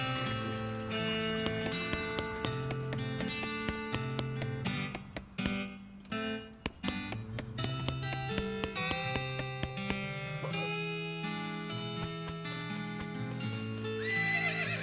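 A horse in the video game West of Loathing whinnies over steady clip-clopping hooves, set against layered melodic game music that plays throughout.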